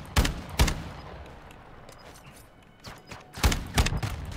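Shotgun blasts in Modern Warfare II, two loud booming shots close together, a quieter stretch with distant clatter, then two or three more heavy blasts in quick succession.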